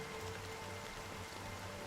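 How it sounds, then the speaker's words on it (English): Rain falling in the video game Honkai Star Rail, a steady dense hiss of drops on surfaces with a low hum underneath, even and unbroken. "But it's still raining."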